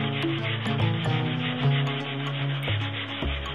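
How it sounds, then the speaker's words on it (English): Scrap wood is sanded by hand with 120 grit sandpaper on a rubber sanding pad, a close, steady rasping scrub with rhythmic back-and-forth strokes running continuously, alone without talk. "Take your 120 grit sandpaper and your rubber sanding pad and go ahead and build up a little mound of sawdust right here in front of the sanding pad."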